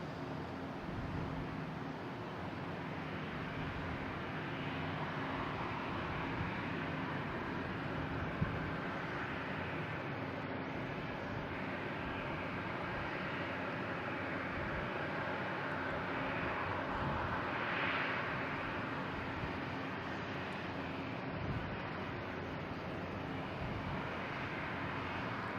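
Spirit Airlines Airbus A321 arriving at Boston Logan International Airport, heard as a faint, steady, distant roar of jet engines under broadband outdoor noise for the full length, with no talking.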